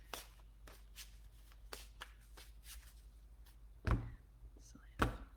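Oracle cards are shuffled by hand, quick soft riffling flicks repeated in a steady rhythm, then two louder thumps as cards are drawn and set down, close and quiet.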